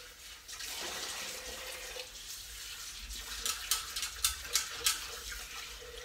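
Water runs into a Thermomix bowl as it is rinsed out, a steady close rush that turns into a few sloshing splashes near the end.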